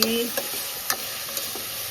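Onions sautéing and being stirred in a pressure cooker before chicken is added, a steady soft sizzle with a few sharp scrapes of the spoon against the pot, close and fairly quiet.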